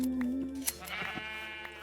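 A Minecraft sheep lets out a single short, wavering bleat up close, followed by quieter game sounds.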